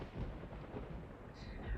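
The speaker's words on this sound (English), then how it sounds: "Lightning illuminates the night. Thunder roars" A low, rumbling roll of thunder from the video game Love and Deepspace, with a steady dark roar, faint and distant, carrying on for a couple of seconds.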